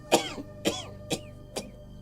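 Four sharp coughs spaced about half a second apart, close and fairly loud, each a short burst with a little rasp, over a quiet room background.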